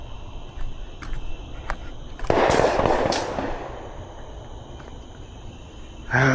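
Fireworks pop outdoors in a Dallas neighborhood ahead of the 4th of July, with a few scattered distant cracks followed by a louder crackling burst and another pop at the end, over a steady insect drone.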